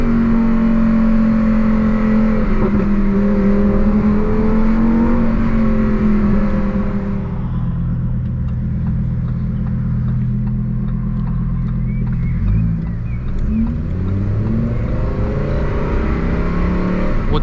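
A Lamborghini Huracan STO's engine revs hard from inside the cabin, a loud rising howl as the exhaust valves open around 4,500 rpm, then dropping to a rumbling lower note before climbing again.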